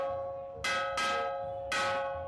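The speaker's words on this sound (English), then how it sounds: "There goes the bells." Temple bells ring at the Lalbaugcha Raja Ganpati immersion procession in Mumbai. Three bright metallic strikes fall in an uneven rhythm over a sustained ringing tone, and the strikes are loud and close.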